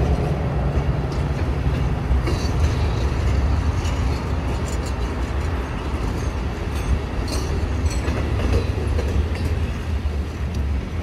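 Finger Lakes Railway road freight GS2 rolls past with a loud, continuous rumble and grinding rail noise, heavy and close throughout, with no talking over it.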